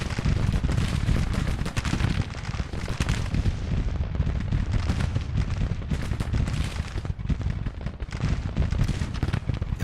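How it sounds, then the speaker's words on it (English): Dense, continuous rifle gunfire and booming artillery from a Civil War battle in Grand Tactician, a loud, unbroken roar of overlapping shots and blasts with no voices. "That's a lot of shooting."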